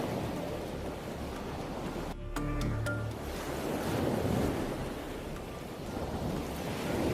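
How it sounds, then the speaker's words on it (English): Ocean waves surge and wash in a steady broadband roar across open sea, rising and falling continuously with a gusty wind-like texture, no voices. "where endless waves rise and fall"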